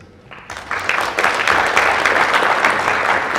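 Audience applause at a blockchain and crypto event, rising from a thin start into steady, dense clapping that fills the room and holds for a few seconds with no talk over it.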